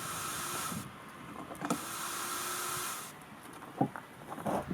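The rear window wiper of a BMW iX electric SUV runs with a soft motorized hiss and whir, broken by brief clicks and a faint hum, quiet and close.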